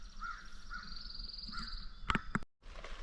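Several crows caw outdoors in the morning, a few spaced calls over a faint background, followed by a couple of sharp clicks.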